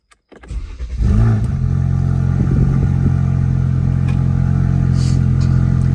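A Ford Focus RS with an overheating problem cranks and fires up loudly, then settles into a steady, close idle with no voices.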